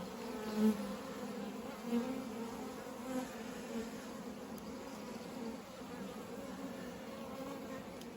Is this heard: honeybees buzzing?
yes